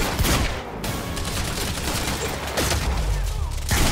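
Dense gunfire from the video game Quantum Break, rapid overlapping shots and bursts filling the whole stretch at a loud, steady level, with a brief dip in intensity near the end.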